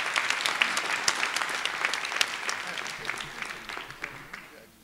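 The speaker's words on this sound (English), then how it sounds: "now you can applaud" Audience applause at a judicial candidates forum, a dense burst of many hands clapping with crisp individual claps, holding steady before thinning and fading toward the end.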